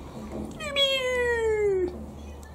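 A cat gives one clear, drawn-out meow of about a second, close to the microphone, over a soft murmur of background noise.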